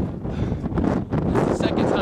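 Strong wind howling across open country in the Perito Moreno area of Patagonia, Argentina, a steady loud roar with rising gusts that buffet the microphone for the whole stretch.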